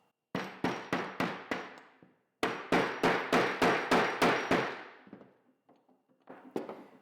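A hammer taps a bicycle hub axle bearing into place: a run of five sharp metallic knocks, a short pause, then about eight more steady blows, close and loud, ending with a few lighter clicks.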